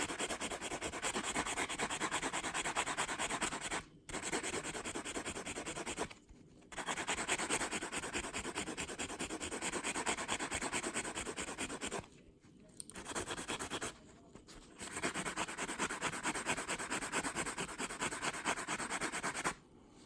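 Abrasive sanding of scratches on a metal watch case, working down through finer stages: steady rubbing strokes fill the clip, close and continuous, broken by four brief pauses.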